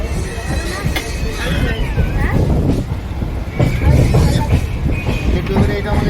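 A passenger train runs on its rails with a steady rumble and rhythmic clatter of the wheels, heard from inside a carriage over a low murmur of passengers' voices.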